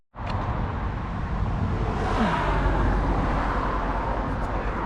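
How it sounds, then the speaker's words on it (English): Road traffic on a countryside road near the Ingrebourne Way cycle route makes a steady rumble with a car passing nearby. The sound stays loud and continuous throughout, with no talking. "there's a bit of traffic ahead, even though we are in the countryside"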